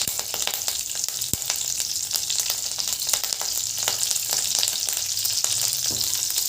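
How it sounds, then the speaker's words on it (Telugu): Cumin, mustard seeds, curry leaves and green chillies frying in hot oil for a tempering, a dense, loud crackling sizzle with sharp popping bursts and faint stirring throughout, near and without talk. "ఇలా ఫ్రై చేసుకోవాలండి"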